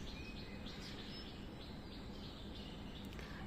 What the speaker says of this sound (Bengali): কাক ডাকা, পাখির ডাক ভালোই লাগে আমার